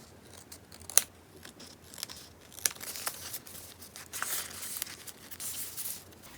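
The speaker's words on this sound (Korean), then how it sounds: "이 아래 조금만 가위로 잘라줄게요." Scissors snip through a sheet of Daiso stickers at close range, sharp crisp cuts with a papery crinkle between them, with no one talking.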